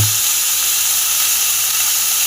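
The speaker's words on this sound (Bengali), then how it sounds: "ফুলকপিগুলো আমি ভেজে নিয়েছি, এবার আমি তুলে নেব" Cauliflower florets frying in hot oil give off a loud, steady hiss that continues without pause from start to finish.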